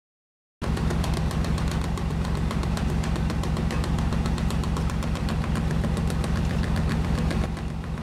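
A car engine idles with all cylinders running, a steady close rhythmic thrum with even pulses that starts abruptly and holds for several seconds.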